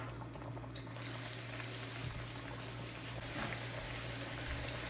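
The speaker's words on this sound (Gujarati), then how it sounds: "એક તળી દીધું ને જો હવે તળવા મૂકી દઈએ." Bajra vada, pearl millet fritters, frying in a pan of oil, a faint steady bubbling sizzle with small crackles over a low constant hum, with no voices.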